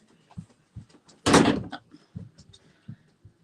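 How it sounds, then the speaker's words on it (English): A door is shut with one loud, sharp slam in a quiet room, surrounded by faint scattered knocks and movement. "Shut my door."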